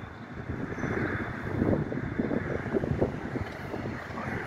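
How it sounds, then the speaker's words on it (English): Gusty wind rushes and buffets the microphone, a continuous rumbling roar that swells and eases over a few seconds. "it's been windy as hell down here where I'm at"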